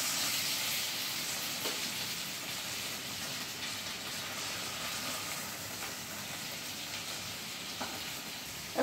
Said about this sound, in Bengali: এবার আমি পাতুরিগুলো উল্টে দিচ্ছি।